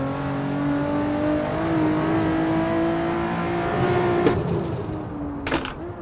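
Simulated Lotus Exige S mid-engine car in Assetto Corsa on the Nordschleife, engine holding a steady loud drone with rising and falling pitch as it revs through gears, a couple of brief sharp bursts near the end.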